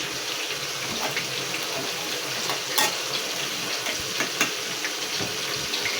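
Chicken pakoras frying in oil, a dense continuous crackling sizzle with occasional sharper pops, close and steady with no talk.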